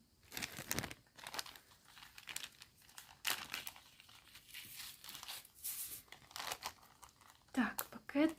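Small plastic bags crinkle and rustle as vintage necklaces are unpacked, in repeated close bursts of crumpling, with someone talking quietly in between.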